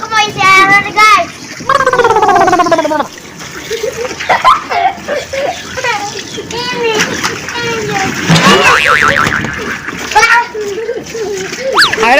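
Water fills and splashes in an inflatable balloon pool, with close splashing and gushing heard beneath lively children's chatter and an adult voice.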